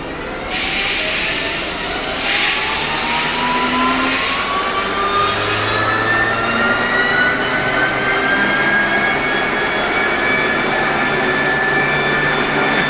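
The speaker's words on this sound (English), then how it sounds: "The pressure will start building, the pump RPM will start going up, the motor RPM increases." Jarvis hydraulic motor dynamometer with its pump and hydraulic motor running through a run cycle, a loud steady mechanical whine rising in pitch as speed builds, continuous and alone throughout.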